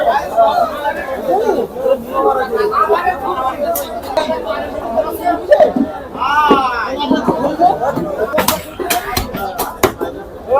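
A dense crowd of buyers chatters at a busy village buffalo and cattle meat market, overlapping voices filling the scene steadily, with occasional sharp chops and slaps of butchering cutting through the babble.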